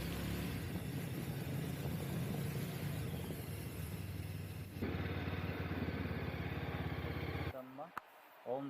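A Yezdi Scrambler motorcycle rides toward a temple, its engine a steady close rumble and drone that grows louder partway through, then drops abruptly near the end as a voice briefly speaks.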